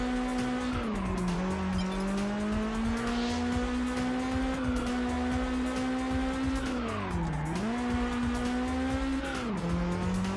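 Car driving in Test Drive Unlimited on PS2, its engine holding a steady loud drone that dips and climbs through gear changes and cornering, with brief tire squeal, no voices.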